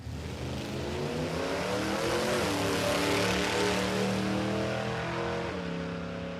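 A street-registered Willys drag car with a blown Hemi roars down the strip at a dragway, the engine a loud, sustained, rising drone that shifts pitch partway through and stays close throughout.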